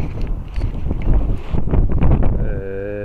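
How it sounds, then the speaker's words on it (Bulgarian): Strong wind at the opening of trout fishing season buffets the microphone with loud, low, rumbling gusts that rise and fall, and a faint tonal hum appears near the end. "Стига, човек, този вятър"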